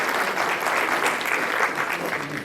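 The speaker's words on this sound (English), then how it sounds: "can we give a round of applause to the banquet team for breakfast this morning?" A company employee recognition gathering gives the banquet team a round of applause, a dense and steady clapping from a crowd that holds throughout.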